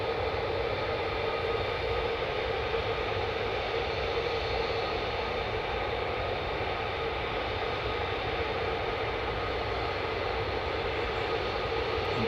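A 48th Fighter Wing fighter jet gives a loud, steady, dense roar like rushing noise that holds without a break from start to finish.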